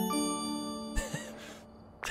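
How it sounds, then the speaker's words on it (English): A bright chime rings out with a lingering tone, followed by a couple of soft tonal hits and a short burst of noise at the end. "Or let's try a little bit of announcement bell."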